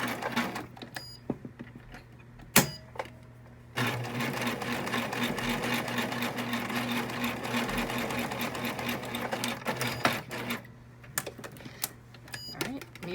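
A sewing machine back stitching a fabric mask, running in a steady rapid whir with a brief pause and a sharp clack before resuming continuously, close up and loud.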